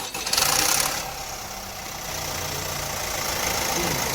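An Opel Insignia 1.6 turbo diesel engine turns over with a loud burst, then settles into a steady, rumbling idle that slowly builds a little in level.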